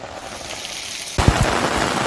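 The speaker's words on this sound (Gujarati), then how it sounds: "બે દિવસ બાદ ફરી ધોધમાર વરસાદની શરૂઆત થઈ" Heavy monsoon rain pours down in Aravalli, Gujarat, as a dense, even hiss that grows suddenly louder and fuller partway through, with no voices.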